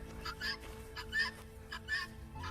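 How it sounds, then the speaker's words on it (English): Several Polish chickens cluck and squawk in a farm coop in winter, three short bursts of calls rising over a low steady hum, fairly close, with no talking. "these are our Polish chickens"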